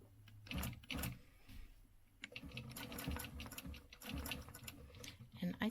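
A sewing machine stitches lines across a quilt with a quick, rhythmic ticking run that pauses briefly and resumes, close by and fairly quiet, with a short voice at the end.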